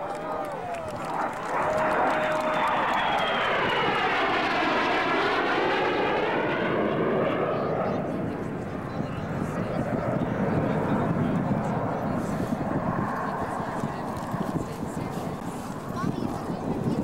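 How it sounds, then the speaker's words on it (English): An AV-8B Harrier jet flies overhead at an airshow in Kern County, a loud, sweeping engine roar that falls in pitch as it passes, then fades into a rumbling wash of noise, with a voice talking over it. "the AV-8B Harrier."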